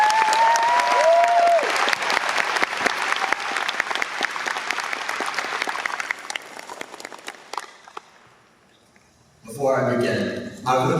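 An audience at a high school graduation ceremony claps loudly and steadily to welcome the valedictorian speaker, then the applause tapers off into near silence before a voice begins speaking.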